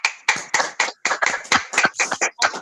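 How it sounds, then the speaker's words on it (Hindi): Audience applause welcoming a speaker at a national webinar, a short burst of steady hand clapping, close and fairly loud, with no talking over it. "जोरदार तालियों के साथ इन्वाइट करना चाहूंगी"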